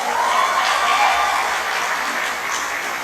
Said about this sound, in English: I would like to honor the families and friends of class of 2023 with a big round of applause.